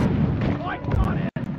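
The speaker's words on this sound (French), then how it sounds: "Toujours aimé les explosions." A booming blast in the mining shooter Deep Rock Galactic rumbles loud and heavy, followed by scattered crackling bursts, with players' voices chattering around it.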